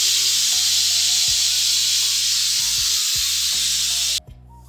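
Onions frying in a pan, grandma-style cooking of a country chicken curry: a steady, loud broadband sizzle runs throughout, then cuts off abruptly near the end.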